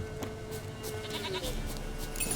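A goat bleats in the video game Witcher 3, short wavering cries heard near and clear over ambient game sound, with no speech.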